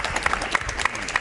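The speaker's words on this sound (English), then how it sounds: "Let's give another round of applause." Applause from a conference panel audience, a brief burst of steady clapping with a few sharper claps standing out, fairly close.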